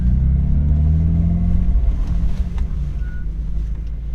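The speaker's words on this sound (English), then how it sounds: "a Super Sprint exhaust with a Rogue status muffler" BMW E46 M3 with open catless headers and a Super Sprint exhaust with a Rogue muffler, heard on a back road as a loud, steady low engine drone with heavy wind rush that eases slightly toward the end.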